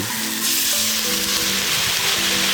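Half a bowl of water goes into sizzling fried masala for a rohu fish curry, bringing a loud, bright hiss that holds steady throughout.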